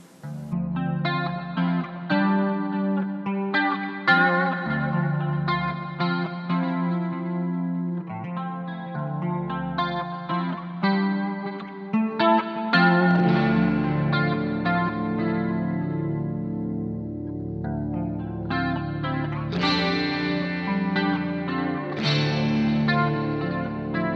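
Rock music plays continuously with heavily effected, distorted guitars and chorus-laden tones, full and loud with no talking.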